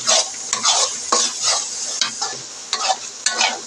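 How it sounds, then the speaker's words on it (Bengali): Chapa shutki paste frying in a pan with rhythmic stirring and scraping strokes about every half second over a continuous close sizzle, with no voices. "এটা অনবরত নাড়তে হবে।"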